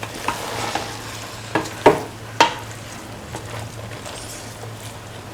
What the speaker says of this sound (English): thoroughly and let the mixture cook for 1 to 2 minutes.